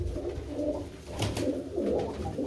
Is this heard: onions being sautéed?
no